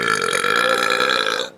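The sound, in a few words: burp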